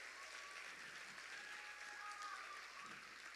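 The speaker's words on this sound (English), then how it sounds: "Give them a round of applause again." A business challenge audience gives the judging panel steady, moderately distant applause, a continuous wash of clapping that holds at an even level with no talk.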